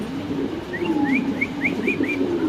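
White fancy pigeons coo close by, a low rolling warble under a series of short rising chirps repeated several times.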